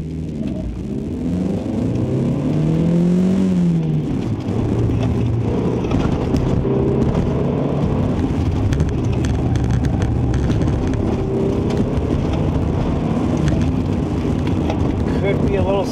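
Engine of a 1989 Honda Accord accelerating hard at an autocross event, a continuous close rumbling drone with rising revs and a churning, slipping quality, with a voice speaking over it.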